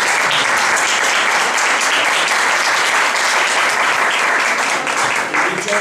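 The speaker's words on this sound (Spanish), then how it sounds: "Un aplauso para todos." Loud, dense applause from a crowd at a round-table event marking the 75th anniversary of a religious brotherhood's board, steady continuous clapping at high level throughout, with faint voices underneath.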